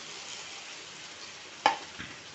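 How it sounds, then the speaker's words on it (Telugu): Grated raw mango pickle is stirred into a hot sizzling tempering, giving a steady soft frying hiss with one sharp clatter and a brief burst partway through; no one speaks. "కలిపేసుకొని తిరగమాతలో వేసేసుకోవాలి."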